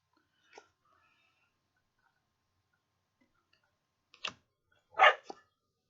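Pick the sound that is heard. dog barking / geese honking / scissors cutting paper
dog barking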